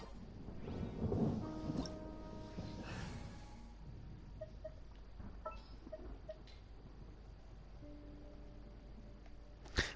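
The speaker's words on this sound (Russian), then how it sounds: "Гром." Thunder rolls through Genshin Impact's Sumeru storyline, a deep rumble swelling early then fading into soft rainy ambience with scattered drips and a sharp crack at the end; no one speaks.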